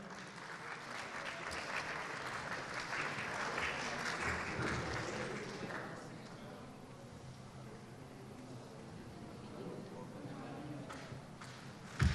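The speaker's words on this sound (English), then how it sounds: "Big round of applause, please, for everyone." An audience at a festival-of-ideas panel gives a sustained round of applause, dense clapping that is loud at first and then tapers to a lighter patter.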